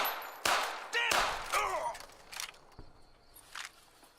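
Needler pistol shots in Fallout New Vegas, four or five sharp crackling bursts in quick succession, each trailing off with a ringing whine, then quieter scattered hits.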